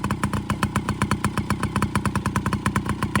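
A dirt bike engine idles about three feet from the muffler, a loud, steady, rapid thumping exhaust pulse with an even rhythm and no voices.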